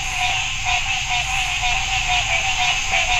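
Frogs croak in a dense, continuous nighttime chorus beside the Tennessee River, a loud steady drone of overlapping calls with no talking.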